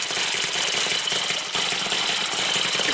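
A running miniature Harley-Davidson V-twin Panhead engine, clamped down on a bench, chatters in a rapid, buzzy, high-pitched drone that stays steady and close, with no one talking over it.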